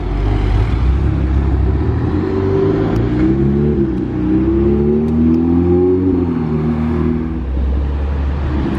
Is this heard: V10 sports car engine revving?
yes